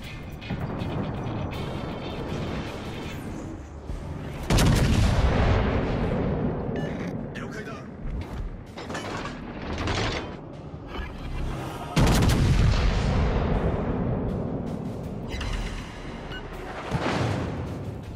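Naval artillery from warships in World of Warships: Legends fires in heavy booming salvos, a few deep blasts spaced several seconds apart over rumbling battle ambience, with occasional voice lines.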